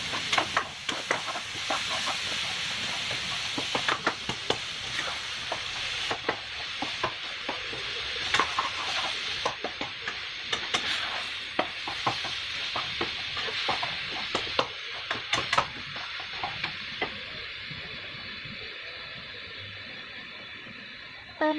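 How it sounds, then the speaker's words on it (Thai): Chicken pieces stir-frying with softened tomatoes in a pan for a homemade spaghetti sauce, giving a steady close sizzle broken by frequent scraping and stirring clicks throughout. "ถึงจะใส่เนื้อไก่ลงไปนะคะ จากนั้นเราก็ผัดจนเนื้อไก่"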